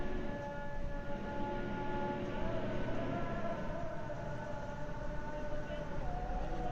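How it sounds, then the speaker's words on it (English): A siren wails steadily during a live report near Gaza and southern Israel, its sustained tones holding over a dense rumbling background for several seconds without a break. "you always just hear this siren going off right there"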